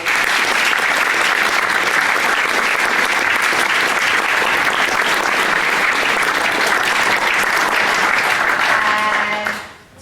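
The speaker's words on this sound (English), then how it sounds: "Can you give her a round of applause?" Audience applause at a certificate ceremony for creative arts and dance students: loud, dense clapping from a crowd held steady for about nine seconds, then dying away sharply at the end.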